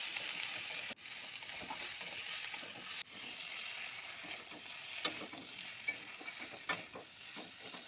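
Vegetables coated with ginger-cumin paste, salt and turmeric stir-fry in a pan for a spinach curry, giving a steady sizzle with scattered scrapes and clicks of a spatula and no talk.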